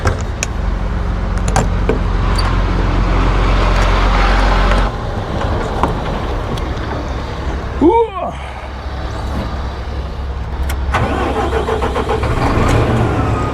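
A large crusher's diesel engine starting at a quarry loading site: steady loud low engine rumble, then a brief whine and catch near the middle as it fires, settling into a continuous running drone.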